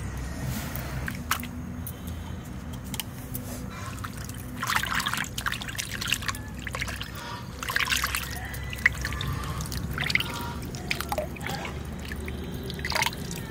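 Fresh garden pumpkin flowers rinsed one by one in water, with steady dripping and trickling splashes, close and moderately loud, running continuously with small bursts throughout.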